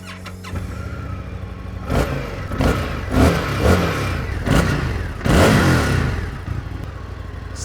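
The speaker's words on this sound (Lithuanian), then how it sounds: "dabar metas paklausyti, kaip šitas motociklas skamba" An Indian FTR motorcycle's engine revs repeatedly, rising in several loud surges over a steady rumbling idle, close up with no talking.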